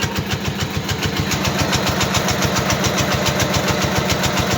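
An old electric motor running as a homemade generator hums and pulses steadily, its rapid rhythmic thumping and bright whine holding constant throughout, loud and close.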